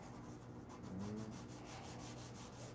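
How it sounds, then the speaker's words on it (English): Rough sanding of wood at a home workshop, a steady continuous rubbing scrape that stays fairly even and close throughout with a slight swell in the middle, no voices. "This is just finishing up the rough sanding from yesterday"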